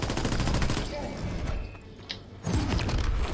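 Dense, rapid gunfire from Call of Duty: WWII fills the scene with mechanical clatter, briefly thinning to a sparse lull before heavy shooting resumes.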